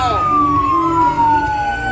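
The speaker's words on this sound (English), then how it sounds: "our emergency services crew who love to play with their sirens" Emergency vehicle sirens sound loud and close at an evening Christmas parade, with a descending wail sweeping steadily downward and a second siren tone layered beneath, over a dense rumbling background.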